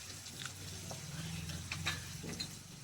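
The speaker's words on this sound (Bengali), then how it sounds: "পেঁয়াজটা একটু ভালো করে ভেজে নেব।" Onions frying with salt in a pan for a Bengali fish curry with pointed gourd, a steady low sizzle with a few soft stirring scrapes, close and moderately quiet, no talk.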